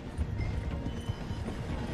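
A horse gallops alongside a slowing train in Red Dead Redemption 2, its hooves beating a fast, steady, muffled clip-clop rhythm up close and at a fairly loud level throughout, with no voices.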